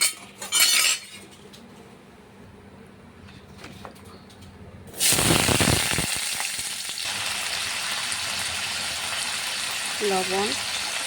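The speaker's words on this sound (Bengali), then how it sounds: "কড়াই বসিয়ে দিয়েছি, আলু ভেজে নেব" Potatoes hit hot oil in a wok for a cabbage dish, bursting into a loud steady sizzle that carries on with faint scraping of a utensil and a brief voice over the frying.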